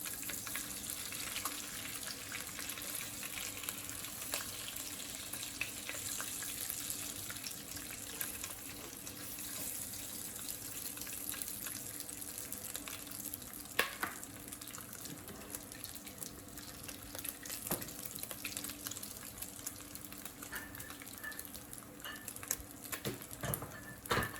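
Hot grease sizzling in a pan before vegetables go in, a faint, even hiss with occasional small pops and crackles, steady throughout and no voices.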